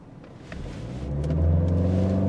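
A tuned BMW 320i xDrive G20 with a Stage 1 remap launches from a standstill under launch control, its engine note swelling into a loud, steady rise as it pulls hard, with no talking over it.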